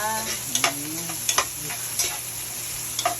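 Meat sizzles and fries in a pan with a steady crackle, punctuated by several sharp clinks and scrapes of a utensil stirring it, close and fairly quiet.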